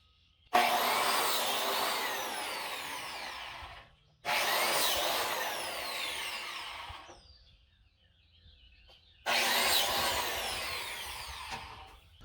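A saw cutting out a hole in wood for a DIY composting toilet, loud close bursts of rasping cutting in three long passes separated by short pauses.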